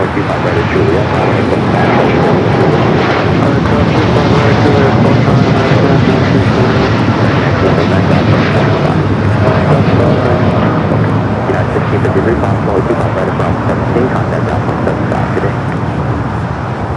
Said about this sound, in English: Air Premia just took off.